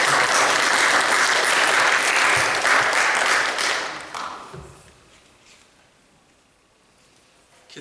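A church congregation applauds, a loud, full wash of clapping for about four seconds that then fades quickly into quiet room sound.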